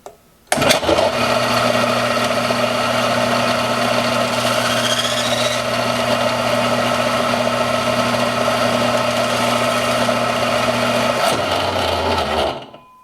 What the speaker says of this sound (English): you want to hold your part in your hand, not against the belt sander, and turn your sander on